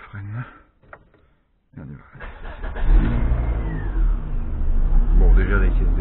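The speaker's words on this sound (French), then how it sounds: "regardez qu'elle se démarre" A Volvo 850 in park with the handbrake on cranks and fires up after a short pause, the engine catching and settling into a loud, close idle, with someone talking just before it starts.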